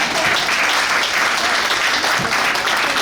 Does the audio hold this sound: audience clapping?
yes